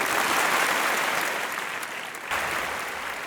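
Audience at a film audio and trailer launch event applauding as guests are welcomed onto the stage, a steady wash of many hands clapping, fairly distant and even, with a slight swell near the end.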